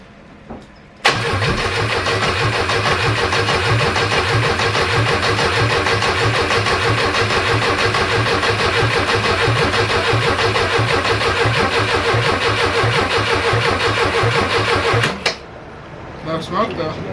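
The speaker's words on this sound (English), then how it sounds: "It's actually cranking." A Porsche 924 with a no-start problem cranks and then runs. A loud, rapid, rhythmic churning starts abruptly and holds steady for about fourteen seconds before cutting off sharply, followed by quiet voices.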